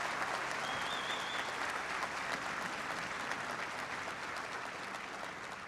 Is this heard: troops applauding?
yes